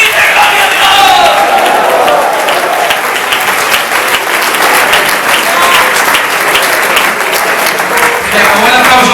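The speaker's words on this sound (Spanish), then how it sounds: "Ese aplauso al rey." A church congregation at a Sunday service claps loudly and continuously, dense sustained applause with a few scattered shouts mixed in.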